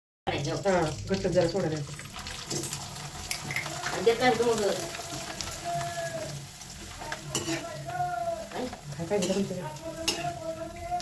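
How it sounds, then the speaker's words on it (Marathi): Kurdya frying in hot oil in a home kitchen, a continuous close sizzle broken by stirring and clattering utensils, while someone talks over it. "आता मी पटपट इकडे थोड्याशा कुरुड्या तळून घेते"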